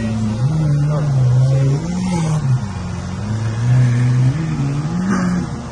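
A Lamborghini idles at a supercar gathering in BGC, its deep engine tone rising and falling gently in a few mild revs. The sound is close and steady throughout, with a brief higher-pitched noise near the end.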